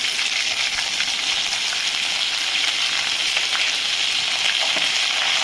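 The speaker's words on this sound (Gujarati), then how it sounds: "આપણે રાઈ જીરું ને સૂકા મરચાંનો વઘાર કરીશું" Mustard seeds, cumin and dried red chillies sizzle in hot oil as a tempering for a Kathiyawadi dhokli shaak, a close, steady, bright hiss of frying that runs unbroken throughout.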